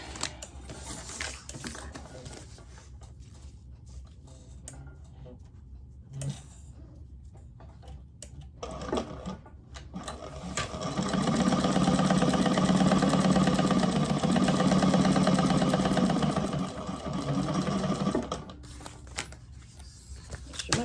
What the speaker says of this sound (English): And then I think we're sewing up the bottom.